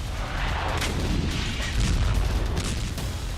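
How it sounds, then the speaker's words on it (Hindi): Dense, rumbling booms of tank and artillery cannon fire roll on continuously, loud and reverberant, with sharper blasts breaking through the low roar. "टैंक और तोप बारूद उगल रहे।"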